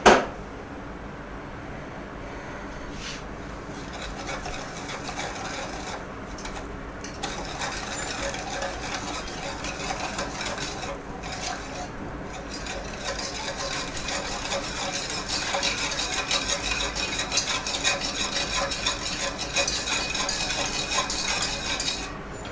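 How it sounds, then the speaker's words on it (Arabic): A pudding mixture is stirred in a pot, a steady close scraping of a spoon against the metal that runs continuously at an even, moderate level with no talk. "طبعا هقلبها على البارد"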